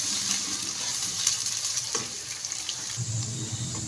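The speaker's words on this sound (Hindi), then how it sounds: "लहसुन, अदरक और ये गोभी के जो अंदर के वो है सॉफ्ट वाला हिस्सा, ये सब चीज़ें डाल के तो मैं इनको अच्छे तरीके से इसमें फ्राई करूँगी" Garlic, ginger and the soft inner parts of cauliflower frying in a pan for aloo gobi, with a steady close sizzle and some light stirring and clinking throughout.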